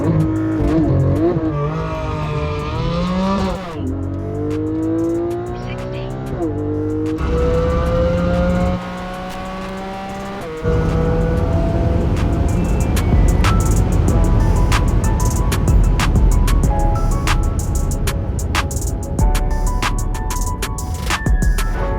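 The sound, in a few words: Tesla Model 3 and Porsche 718 Cayman GT4 drag racing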